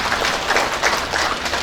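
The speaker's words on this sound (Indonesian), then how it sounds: "Tepuk tanganlah untuk UNA dan kita semua." Audience applause at a Universitas Asahan graduation ceremony: dense, steady clapping from a large crowd filling the hall, sustained at even loudness without a break.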